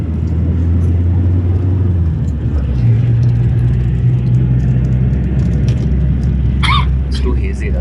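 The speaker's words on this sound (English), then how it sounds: "we are very quietly moving along in the vehicle" A vehicle moves along at a quiet pace, heard from inside with the music off on a hazy day: a steady low engine and road rumble runs throughout, with faint voices and a few small knocks near the end.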